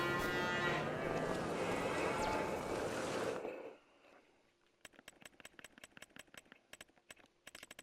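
Cattle lowing in the Farming Simulator 25 game, several sustained, close moos layered over a low engine-like drone for about three seconds, then fading into quiet broken by sharp, rhythmic clicks.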